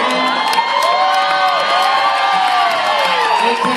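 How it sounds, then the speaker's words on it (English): A live audience at the Nuyorican cheers and applauds, loud and close, with whoops and high shouted voices rising and falling over a dense crowd roar. "how about a big round of applause for my better half?"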